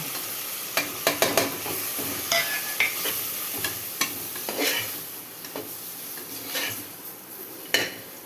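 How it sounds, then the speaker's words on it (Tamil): Onions, green chillies and tomatoes sauté in a pan for chicken biryani gravy, with a steady sizzle broken by repeated clinks and scrapes of a spoon stirring against the metal, close and alone. "வெங்காயம், பச்சை மிளகா, தக்காளி எல்லாம் போட்டு வதக்கியாச்சு."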